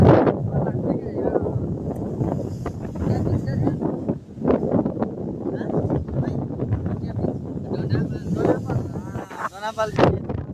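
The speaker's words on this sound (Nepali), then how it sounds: "हावा चाहिँ यस्तो खतरनाक" Strong gusty wind at Dona Paula beach in Goa buffeting the microphone with loud low rumbling bursts throughout, under a person talking.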